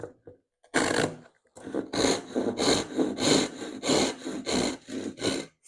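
A coarse rip hand saw cuts through wood in a series of about ten even, rasping strokes, close and clear with short pauses between pushes.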